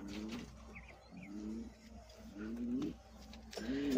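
Pigeons coo softly and repeatedly inside a pigeon loft, low rolling calls recurring every second or so at modest volume, with faint background noise and no talking.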